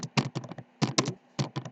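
Close, crisp typing on a computer keyboard in short clustered bursts of rapid keystrokes separated by brief pauses, with no voices.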